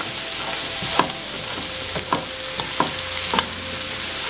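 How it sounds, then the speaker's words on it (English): Vegetables for cauliflower fried rice stir-fry in a hot pan: a continuous close sizzle punctuated by four or five sharp spatula scrapes at irregular intervals, no voices. "And also stir fry that up as well"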